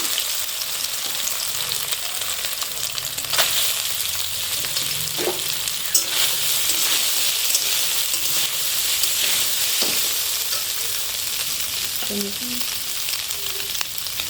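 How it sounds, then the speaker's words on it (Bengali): Squeezed soybean chunks frying in hot oil, giving a loud, dense, close crackling sizzle that holds steady throughout, with occasional faint utensil knocks. "তেল গরম হয়েছে এখন আমি সয়াবিনগুলো ভেজে নিব"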